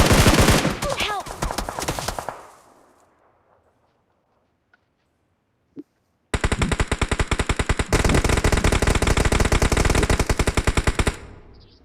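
Loud bursts of rapid machine-gun fire from the BGMI battle royale game crackle for about two seconds, then go silent apart from a couple of faint ticks, before a long, dense stretch of sustained automatic gunfire resumes.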